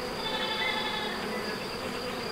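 Honeybees buzz in a dense, steady drone at an open beehive, close and continuous with no pauses.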